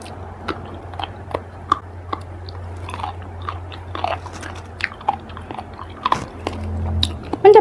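Crunchy soy-sauce pickled razor clams being chewed near the microphone, giving irregular crisp bites and crunches over a low steady hum, with no talking.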